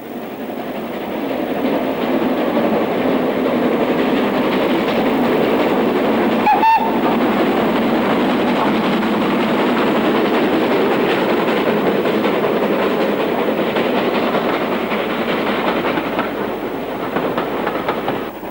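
A locomotive-hauled train on the North Yorkshire Moors Railway passes close by Beck Hole, a loud, sustained rumble of wheels and carriages with rhythmic clatter over the rails.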